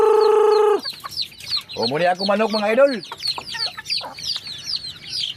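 Hens and fowl cluck and chatter busily at close range while being fed rice, a burst of squawking and rapid clucks following a short tone, with someone speaking briefly over them.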